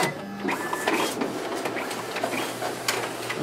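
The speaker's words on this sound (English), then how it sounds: "Okay, there we have our document feeder working properly." Paper feeds through the document feeder of a Konica Minolta bizhub C220 copier, heard close up as a busy mechanical whirring with a brief motor tone at the start and repeated clicks and rustles, with no talking.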